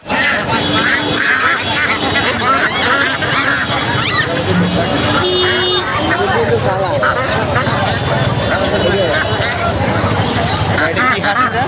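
Ducks and geese honk and quack continuously at a crowded bird market, loud and close, with overlapping calls over a background of babbling voices and people talking.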